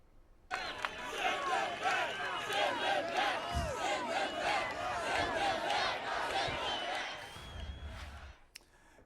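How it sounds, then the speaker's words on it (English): A large MAGA rally crowd at a Trump event roars and chants in unison, many voices rising together in a loud, sustained wave for several seconds before dropping off. "here's how the MAGA crowd reacted to that rhetoric yesterday"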